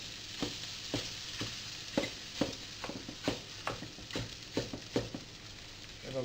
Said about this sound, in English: And I'm going to stick another egg on it.